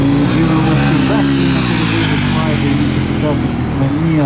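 Bajaj Dominar 400 motorcycle engine running loud and continuous through a timed gymkhana run, revving and surging with gear changes, with a commentator's voice heard over it.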